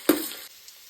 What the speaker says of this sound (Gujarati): એના અંદર આપણે ડુંગળી એડ કરીશું